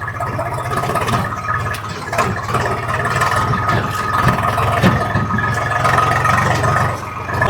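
A heavy diesel engine of a 75 hp harvester tractor in a farm field chugs steadily at close range, its low rumble rising and falling slightly as it runs continuously.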